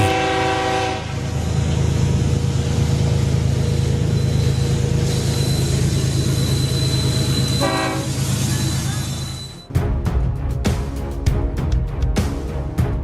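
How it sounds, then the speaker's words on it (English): A full-size train rushes out of a tunnel at speed, a heavy roaring rumble with a long sustained horn blast, followed by sharp rhythmic clatter of wheels over rail joints as the cars pass close by. "One second the tunnel looks empty, and the next, a full-size train bursts out at speed."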